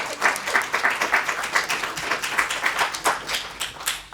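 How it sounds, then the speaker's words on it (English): An audience gives a round of applause for Caroline at a WEYDA youth group event, a steady patter of many hands clapping for about four seconds with no talk over it. "can we have a round of applause for Caroline?"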